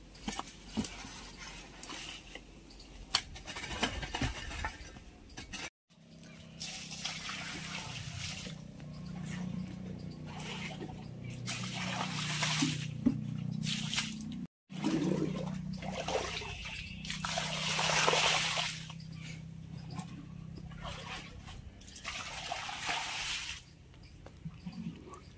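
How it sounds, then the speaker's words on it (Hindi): Water poured out over trees and plants outdoors, a soft continuous splashing and trickling that runs steadily at low volume with two brief breaks. "अभी जनाब इसके साथ इसको पानी देते हैं"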